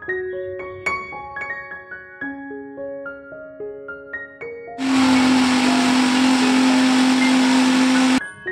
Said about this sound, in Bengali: এইবার ভালো করে মিক্সিতে গ্রাইন্ড করে পেস্টটা বানিয়ে নেব।